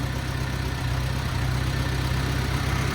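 Freshly overhauled Allis Chalmers D15 Series II tractor engine idles with a steady, even low rumble, moderately loud and continuous with no talking.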